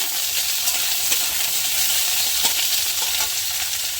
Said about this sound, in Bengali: তেলের উপরে আলুটা দিয়ে নিয়েছি দিয়ে হালকা করে একটু ভেজে নেব